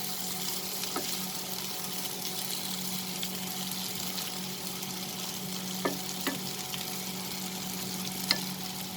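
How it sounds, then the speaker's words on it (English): Long beans and potatoes sauté over a high flame, giving off a steady close sizzle and hiss, with a few light clicks from stirring and no talking. "Now over high flame, I will saute this for a minute."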